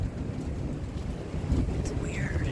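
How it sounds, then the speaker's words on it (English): Low thunder rumbles continuously as a storm rolls in over a rural property, a deep, steady roar resembling wind with faint higher sounds drifting in toward the end. "that sounded like wind, but it was thunder"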